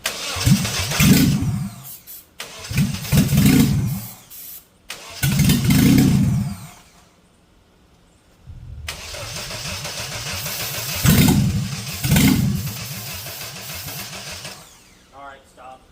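A Nissan Hardbody truck engine cranks in several long bursts with repeated starter churning as it struggles to fire. Pauses separate the attempts, and people talk near the truck.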